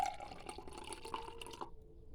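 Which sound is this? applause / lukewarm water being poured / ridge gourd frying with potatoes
lukewarm water being poured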